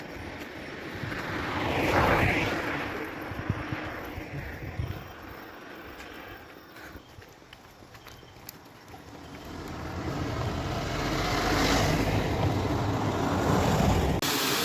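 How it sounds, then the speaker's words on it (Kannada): Heavy rushing water at night on the Charmadi Ghat mountain road, a steady broad roar swelling and easing over the stretch, loud and close with no talking. "ಸೌಂಡ್ಗೆ ಗೊತ್ತಾಗುತ್ತೆ ನಿಮಗೆ ಎಷ್ಟು ನೀರು ಹೋಯ್ತಾವೆ ಅಂತ ನೋಡಿ."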